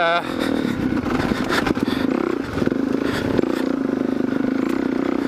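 Kawasaki KLX470 motorcycle ridden through the West Desert, with a steady, droning engine that runs throughout under someone talking over it.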